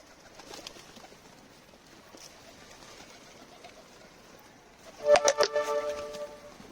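Pigeons near a coop cooing, with faint quiet background for several seconds, then a short, louder run of throaty coos close by near the end.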